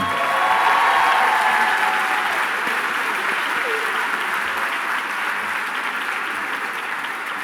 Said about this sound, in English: Let's give a huge round of applause to the class of 2019.